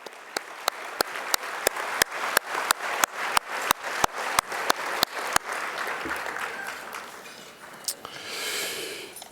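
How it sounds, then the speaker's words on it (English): An audience at a 2015 keynote event applauds, opening with sharp rhythmic unison clapping that dissolves into steady, full applause before settling into a softer, airy crowd wash near the end. "everyone should applaud yourselves"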